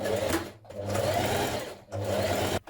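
A sewing machine stitches a dart in a fitted dress, running in two close, steady whirring bursts separated by short stops, no talking.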